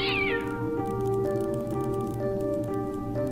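Cat meowing in the Fran Bow video game, a descending mew over a steady droning game soundtrack with sustained tones, the cry fading into the music within about a second.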